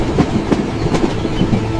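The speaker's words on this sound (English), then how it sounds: "The train from Paris rattled southward through the French countryside." A train from Paris rattles along the tracks through the French countryside, a loud, steady rumble with rhythmic clickety-clack beats close by.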